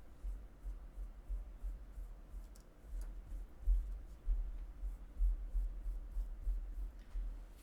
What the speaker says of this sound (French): J'enlève la colle sur mon plan.